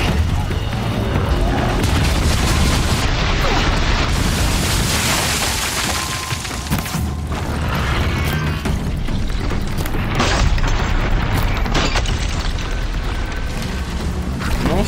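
Combat in the video game Horizon Zero Dawn, with freezing arrows and explosions: heavy booming blasts and rumbling impacts, loud and continuous, with sharper hits and crackles partway through and no talk.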